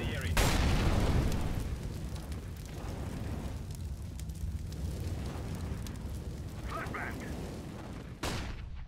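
An incendiary grenade in CS:GO: a sharp pop followed by a sustained roaring, crackling burn amid gunfire-like bursts and game noise, with a voice briefly speaking.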